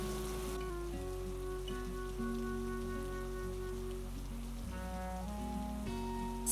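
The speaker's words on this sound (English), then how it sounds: "It's raining? Quick, cover the food." Rain patters steadily on a rooftop during an animated bunny and bear bento lunch, a soft even hiss under gentle melodic music.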